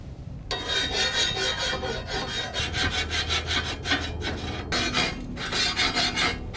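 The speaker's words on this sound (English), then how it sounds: "I next ground and filed everything smooth." A hand file rasps steadily across a fabricated metal access door, smoothing ground welds in loud, close, rhythmic back-and-forth strokes with no talking.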